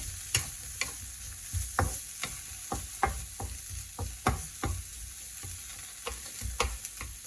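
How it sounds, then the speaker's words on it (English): Food sizzles steadily in a hot pan while a utensil scrapes and taps against it in irregular, close-up strokes. "Let your onions fry."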